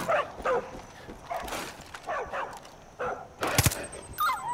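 A dog in Far Cry 5 yelps and whimpers in short repeated bursts while a wolverine attacks it, with sharp thuds and game noise in between.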